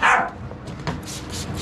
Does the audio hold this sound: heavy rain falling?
no